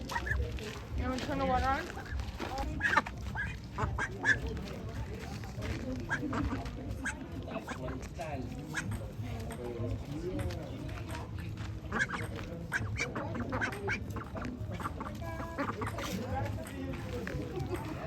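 Ducks quacking up close indoors near running water, irregular calls mixed with other bird noises under steady chatter from several people nearby.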